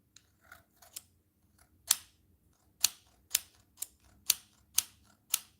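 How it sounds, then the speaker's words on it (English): Scissors snip repeatedly while paper butterflies are being made, about eight crisp, close cuts, some single and some in quick pairs, with no talking. "they're just scissors"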